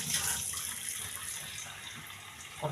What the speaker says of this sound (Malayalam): കുറച്ചധികം വെള്ളം വെക്കുന്നുണ്ട് ഞാൻ